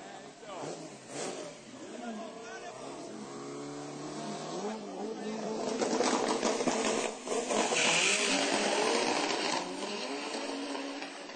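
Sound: Volkswagen Beetle and Honda Fit drag racing

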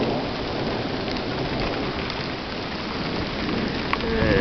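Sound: thunder and heavy rain

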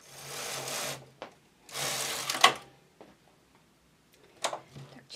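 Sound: knitting machine knitting a row

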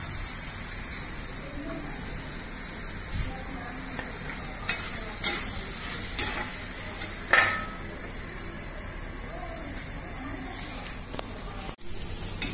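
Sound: spice paste with potatoes frying and being stirred

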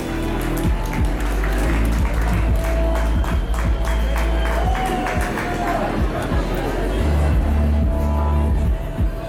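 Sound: audience applause at a poetry evening

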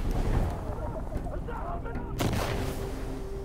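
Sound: mortar strike explosions in video game Insurgency: Sandstorm

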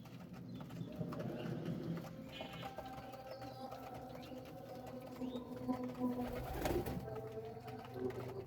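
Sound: pigeons cooing

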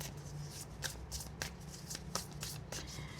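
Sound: shuffling tarot cards

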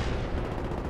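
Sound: gunshot in a first-person shooter video game

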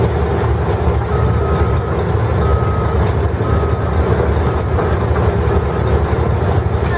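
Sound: toy mining truck sounds

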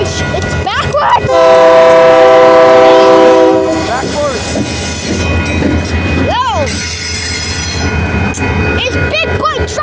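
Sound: Union Pacific Big Boy train passing at El Paso

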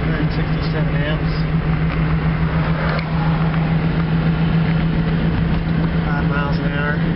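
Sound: Geo Metro electric car driving in fifth gear

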